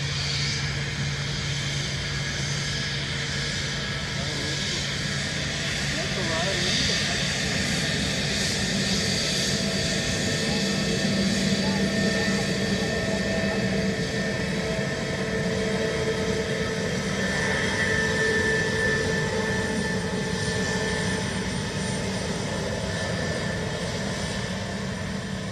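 An airliner taxis past at Dublin Airport, its steady jet engine whine and low rumble holding close and even throughout, with no voices.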